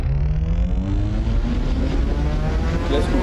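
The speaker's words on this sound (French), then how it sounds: "on peut directement dans un moteur audio recréer un espèce de véhicule en fait" A synthesized vehicle engine created inside an audio engine simulation drones loudly and continuously, a low rumbling tone with a slowly rising pitch as if accelerating, heard alone and close.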